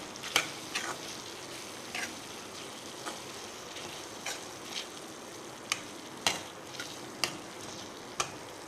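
Chicken being stirred with spice powder in a pan for chicken kuzhambu, heard as a faint, steady sizzle broken by irregular sharp scrapes and taps of a spoon against the pan.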